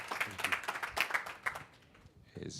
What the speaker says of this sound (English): Let's give Brother Walker, a round of applause for this very timely presentation.